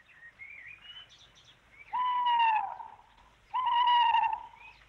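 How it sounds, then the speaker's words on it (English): An owl hoots at night, first soft wavering calls, then two loud, sustained hoots close by, each lasting over a second with a brief gap between them. "Bird of night, hoot not. Feathered omen, hoot not."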